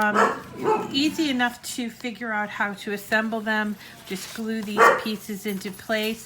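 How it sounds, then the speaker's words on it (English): A small dog named Teddy barks and yips repeatedly nearby, sharp bursts scattered under and between a person talking steadily throughout. "Sorry about the barking dog."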